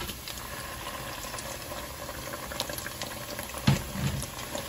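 Pieces of nopal cactus paddle are tossed into a pan of softened onion, giving a soft, steady sizzle with a brief clunk and rustle near the end.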